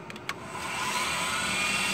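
Wet/dry sandpaper held against a small turned knob spinning on a lathe, a steady broadband hiss that starts after a few light taps and rises into a continuous close whirr.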